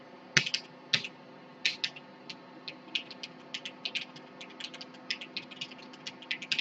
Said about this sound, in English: I'm not going to be able to type this on this keyboard.